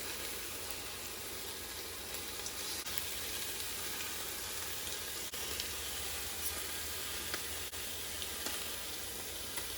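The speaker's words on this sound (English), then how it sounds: "We've got a nice sizzle already." Chunks of pot roast beef sear in an Instant Pot, giving a steady, close hiss and sizzle that holds evenly the whole time, with faint crackles and no talking.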